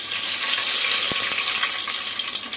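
Fenugreek and mustard seeds in hot oil in a home kitchen, giving a loud continuous crackling sizzle with one sharp pop partway through.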